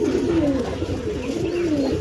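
Two male Andhra pigeons coo in repeated rolling, throaty phrases, close by and clear, with faint background noise and no talking.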